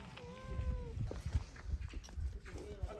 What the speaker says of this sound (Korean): 고양이가 있어 눈이 아주 매서워